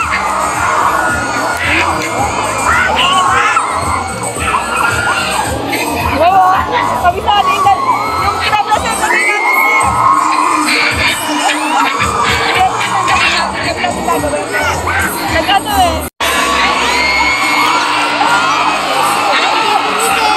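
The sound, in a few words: children shouting and cheering at a school activity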